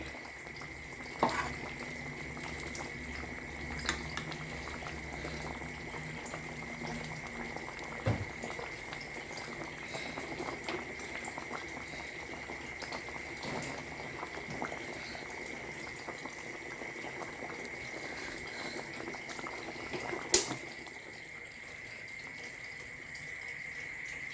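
Quiet, steady bubbling and simmering of Thai coconut-milk curry with pork and sweet potato in a pot, with a few soft clicks and knocks scattered through.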